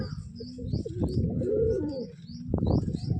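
A slender female pigeon held up close gives soft, rolling coos in low pulses, with light rustling and chirps around it and no talking over it.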